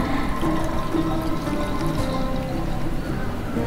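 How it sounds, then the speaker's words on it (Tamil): Water from a tumbler splashes into a cooking pan in a home kitchen, a steady close pouring and trickling sound that lasts several seconds at moderate volume. "ஒரு பேனில் வந்து ஒரு டம்ளர் தண்ணி விட்டுக்குங்க"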